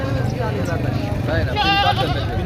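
A goat bleats at a goat market in Dera Ghazi Khan, one wavering nasal cry rising briefly above steady market noise while someone talks over it.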